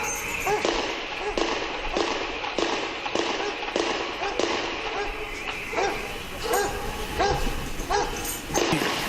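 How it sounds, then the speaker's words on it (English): Rapid bursts of gunfire and homemade grenade blasts from a police shootout crack repeatedly at an irregular rhythm, sharp and fairly distant, with voices and barking dogs mixed in underneath. "Take a listen to the shootout."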